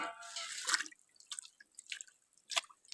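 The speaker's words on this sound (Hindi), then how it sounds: "अब इसी पानी में, आइस वाले पानी में, इन पालकों को भी डालना है।" Fresh spinach leaves dropped into a bowl of ice water give a few soft, close splashes and drips, with quiet gaps between them.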